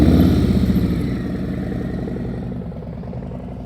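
A motorcycle engine runs near idle with a low, pulsing throb during slow-speed riding practice, loud at first and slowly fading as it moves away.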